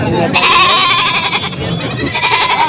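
Goats bleat repeatedly at a livestock market, loud and close, with several overlapping wavering calls and brief human voices in the background.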